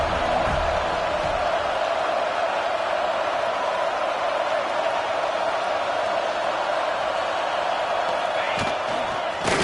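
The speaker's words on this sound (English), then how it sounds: "This crowd busting the decibel meter and trying to will a fourth down stop." Loud, dense roar of a college football stadium crowd urging a fourth-down stop, a continuous wall of cheering and yelling close to the microphone.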